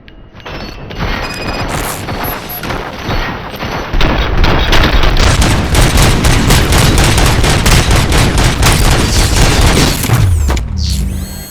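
Sustained gunfire and booming explosions from a firefight in the video game RoboCop: Rogue City, loud and dense, with rapid bursts building into a continuous barrage before cutting off abruptly near the end.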